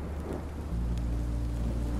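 Steady rain hiss pours over a deep, continuous thunder rumble in the video game Minecraft Story Mode, loud and close, with no voices.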